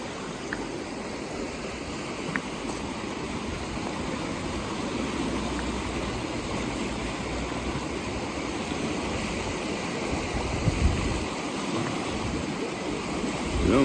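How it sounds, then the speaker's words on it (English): A fast-flowing river swollen after heavy rain in Knott County, Kentucky, rushes in a dense, continuous roar that stays loud and steady throughout with no voices. "That is one fast flowing river right now."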